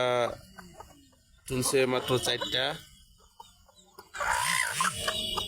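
A desi hen clucks low and soft among her newly hatched chicks, which peep in high thin chirps nearby, while someone talks over much of it.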